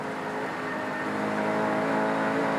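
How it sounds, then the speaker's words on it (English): Peter Brock's V8 Supercars race car at Phillip Island in 1993, working through its 6-speed gearbox: a steady, droning engine note holding close and loud with no talk over it. "Here we hear Brocky going through that 6-speed gearbox."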